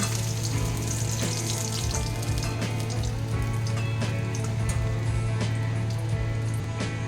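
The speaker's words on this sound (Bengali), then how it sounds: "এই মাছগুলো আমি একদম লাল লাল করে ভেজে নিচ্ছি।" Pieces of fish frying in hot oil in a wok, a dense, steady sizzle with continuous crackling and spitting that runs loud and unbroken throughout, with no voices.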